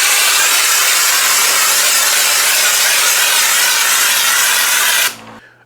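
A drywall texture sprayer applies texture onto a wall in a loud, steady hiss of air and spray that runs without a break for about five seconds, then cuts off abruptly at the end.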